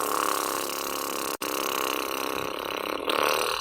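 A human voice imitates a tractor engine with a long, droning, rumbling buzz that runs loud and steady for several seconds, cut by one brief pause.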